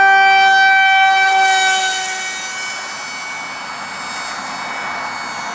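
A Flite Test foamboard Rocket parkjet RC airplane flies by, its electric motor giving a loud, high steady whine with strong tones that fades and drops in pitch as the plane moves away, with no voices.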